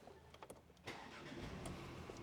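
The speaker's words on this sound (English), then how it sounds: "Now start the engine." An Audi Q5 engine cranks briefly and catches, settling into a close, steady idle; the car has a P0299 boost fault and a newly replaced turbocharger.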